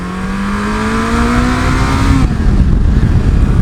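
Yamaha XJ 900 F sport-touring motorcycle riding on a road, its engine note rising steadily in pitch under acceleration, then a gear change into rougher, broadband engine and wind roar, loud and close throughout.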